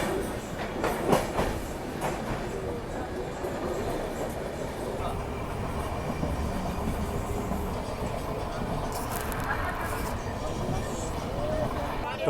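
The Godavari Express passenger train rolls steadily along the rails with a continuous rumble and a faint clickety-clack of wheels. It is heard from inside the moving coach, with some faint background voices.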